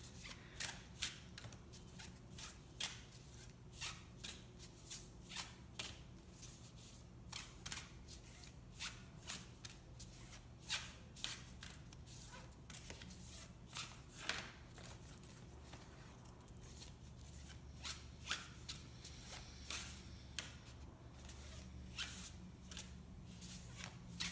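Oracle cards are shuffled by hand in quick, repeated riffling bursts that continue steadily for the whole stretch. The shuffling is soft and close, and no one speaks.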